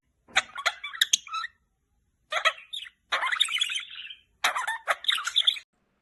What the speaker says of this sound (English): Budgies make a wide variety of sounds to express their moods, needs, and social interactions.